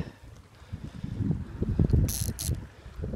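A fishing reel winds in line on a wrasse lure setup outdoors, a rough ratcheting whir in uneven bursts with wind noise and a short hissy burst midway.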